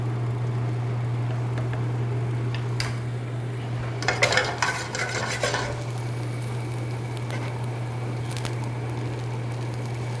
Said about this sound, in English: the caramelization that I'm doing with these vegetables for the broth